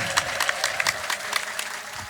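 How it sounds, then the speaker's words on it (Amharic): A gathering of inmates inside a prison claps together during a holiday visit by a preacher, producing uneven, lively applause with distinct sharp claps standing out from the crowd noise. "አጨብጭቡ፣ እግዚአብሔርን አመስግኑ።"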